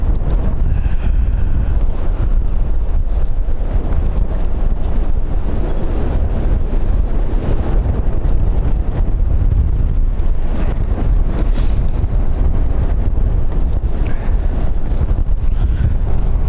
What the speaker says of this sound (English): wind is definitely picking up, as you can probably hear